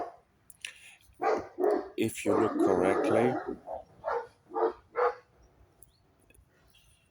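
Dogs arguing with each other, a burst of barking and growling followed by several separate barks, heard through and between someone talking nearby.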